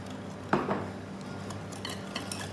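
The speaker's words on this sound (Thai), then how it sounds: "ผสมเสร็จแล้วก็คนให้เข้ากันนะคะ คนไปเรื่อยๆค่ะ" Spoon stirring a liquid-and-solid ice cream mixture with frozen fruit in a bowl beside an N-JOY ICE ice cream maker, making a scraping clatter with one sharper knock near the start, then softer scrapes and light clinks, close and alone.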